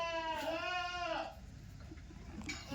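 Yalaga breed sheep and lambs bleat in a single long, wavering call lasting about a second, close and fairly loud, followed by quieter farmyard background with a faint second bleat near the end.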